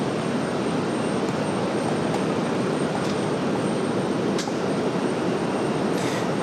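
A Delta airliner takes off from runway 23 right at Raleigh-Durham airport, its engines a loud, steady broadband roar that fills the whole clip, with a few faint clicks over it.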